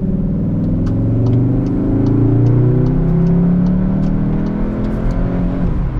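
Engine sound of a Cupra Formentor 310 hp, piped through the cabin speakers, a steady mid-pitched hum that swells slightly as if revving, then settles, loud and continuous with no talking.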